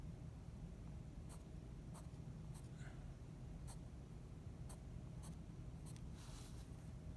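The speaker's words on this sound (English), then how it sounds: "Or I can break them up and then I'll just go in and draw another one." A pencil scratches lines onto paper for a one-point perspective road drawing, sparse faint strokes spaced a second or so apart over a quiet background hiss.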